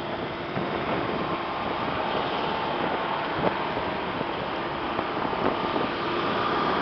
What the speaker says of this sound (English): Fucking wind blowing so fucking hard.